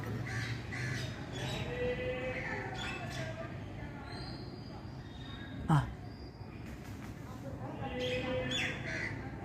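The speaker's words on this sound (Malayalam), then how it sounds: "ഇവിടെയൊക്കെയോ കിളികളെ സൗണ്ട്" Parrots and other birds squawk and caw repeatedly over a dense, noisy background, with one sharp, louder call partway through.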